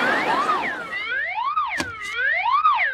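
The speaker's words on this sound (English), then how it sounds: "No, that's my alarm." A wailing, swooping electronic alarm tone in the Cookie Run video game rises and falls in repeated loops, loud and clear, with a couple of short sharp blips cutting in midway.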